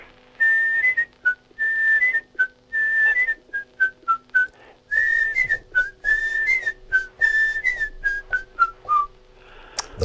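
Someone whistles a bright, lilting tune alone and close by, in short phrases with small breaths between them.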